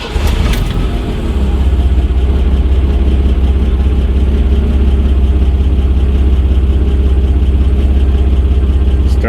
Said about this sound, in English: Let's give it a crank and see how the new battery works.